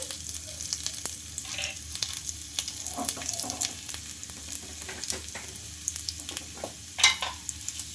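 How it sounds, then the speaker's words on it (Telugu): Small cut pieces of ginger fry in hot ghee with a steady crackling sizzle, sharp spits and pops scattered throughout, and a louder burst near the end. "నెయ్యి హీట్ అయిన తర్వాత చిన్నగా కట్ చేసుకున్న అల్లం ముక్కలు అయితే వేసుకోవాలి"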